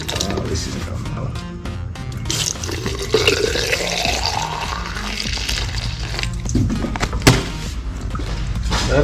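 Water pours into the washer bottle of a 2007 Toyota Hilux N70 with the 1KD engine, a continuous gurgling stream with some plastic clunks and a sharp knock near the end.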